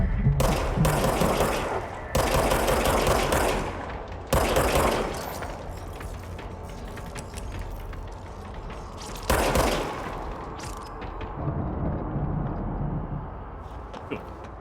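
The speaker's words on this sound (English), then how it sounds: "Now I have a gun." Gunfire from the player's weapon in the game Control: several loud bursts of rapid shots, each lasting about a second or two, separated by quieter stretches of game ambience.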